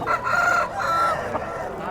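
A rooster at a weekly chicken market in Galiveedu crows up close in a strained, drawn-out call, followed by a second crow amid market background noise.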